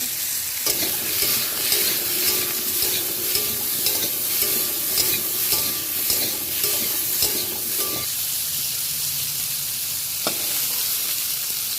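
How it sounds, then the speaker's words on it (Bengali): Papaya pieces frying with salt in a pan for a fish curry, a constant close sizzle with rhythmic stirring scrapes and a few sharp clicks of the spatula. "কেটে রাখা পেঁপেগুলো আমি এর মধ্যে দিয়ে দিলাম। আবারও ভেজে নেব নেড়ে ছেড়ে।"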